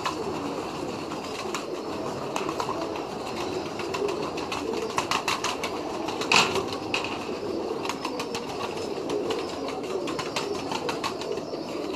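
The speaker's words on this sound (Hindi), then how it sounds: "कबूतर दाना खा रहे हैं इसलिए हम उनको डिस्टर्ब नहीं कर रहे।" Pigeons feeding on grain nearby make scattered sharp pecking clicks and occasional soft coos over a constant low ambient hum, with no one talking.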